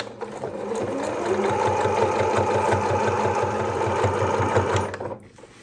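A sewing machine stitches bias tape down onto fabric in a fast, even, rapid run for about five seconds before stopping, close and fairly quiet.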